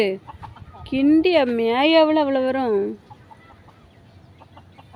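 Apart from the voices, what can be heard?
chickens clucking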